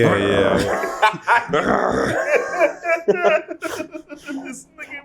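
Someone imitates a German shepherd with gruff barks and growls, mixed with laughter and talking.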